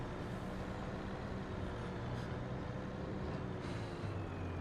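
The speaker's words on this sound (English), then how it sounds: "Should we have a drag race with the 2 trucks side by side up the hill?" Trucks in Farming Simulator 25 climb a hill side by side, a steady low engine rumble and drone that fills the whole stretch, moderately quiet and with no voices.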